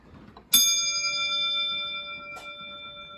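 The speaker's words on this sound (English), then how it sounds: "So that was a mushroom bell." A GWR railway signalling mushroom-dome block bell is struck once, clear and ringing with a long metallic decay, followed by a faint second tap.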